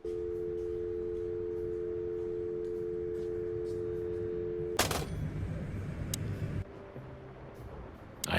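A steady telephone dial tone hums from a phone in the Chicken Police video game, then cuts off abruptly into a clatter and a lower rumbling ambience.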